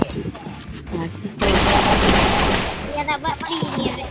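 Heavy bursts of automatic gunfire in the video game Free Fire, loud and close, with a sustained roaring volley in the middle, amid excited talking from a player.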